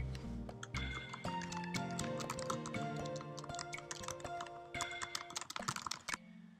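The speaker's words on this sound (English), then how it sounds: "right here is a text box where I can type whatever I'd like." Key clicks from a computer keyboard as text is typed into a Google Earth description box, rapid and fairly even, close by over faint background tones.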